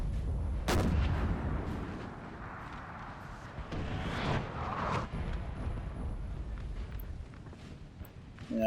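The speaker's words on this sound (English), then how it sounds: "That looks like a howitzer around there." Howitzer artillery fire in the video game Napoleon Total War, distant booming cannon shots, one sharp near blast early, then a rumbling battlefield bed with scattered further thuds.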